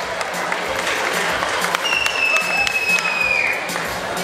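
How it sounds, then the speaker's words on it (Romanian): A crowd at a freshmen's ball at a technical high school applauds steadily to welcome students, with a scattering of cheers. A sharp whistle-like tone rings briefly over the clapping. "Să-i întâmpinăm cu aplauze."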